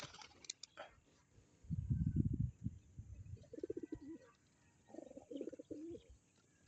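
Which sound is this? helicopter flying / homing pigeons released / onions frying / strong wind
homing pigeons released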